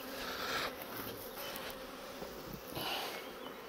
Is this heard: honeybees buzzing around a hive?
yes